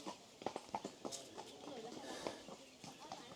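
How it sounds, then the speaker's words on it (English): A horse walking during a short ride in Yunfu, China: irregular hoof clip-clops close by, some sharper than others, heard under ongoing talk. "just jumped on a horse down here to go for a little ride around"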